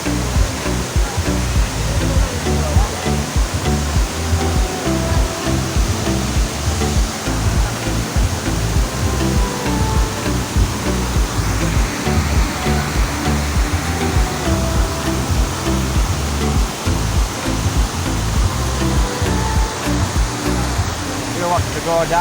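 Crystal clear river water flowing steadily at a resort in the Philippines, a dense continuous rush like a small waterfall or fast stream, loud and unbroken throughout with faint voices beneath.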